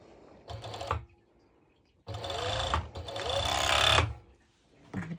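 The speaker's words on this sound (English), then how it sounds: "I go straight to my serger and go ahead" A serger overlocker stitches through layers of fabric and lining in three loud close bursts, a brief one then two longer runs of rapid whirring, with quiet pauses between and a short start at the end.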